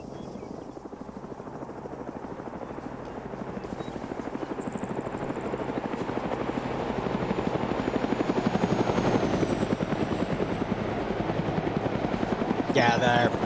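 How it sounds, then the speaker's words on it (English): A helicopter in the Arma military game flies in with a steady, loud rotor chop that slowly builds as it nears, and a voice talks faintly over it. "Helicopter's going to come in to grab him."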